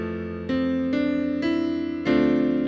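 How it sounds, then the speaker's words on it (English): A thickened jazz chord arrangement on piano: four or five full chords struck one after another, each ringing and sustaining into the next, clear and close with no talking. "So our new arrangement would sound like this."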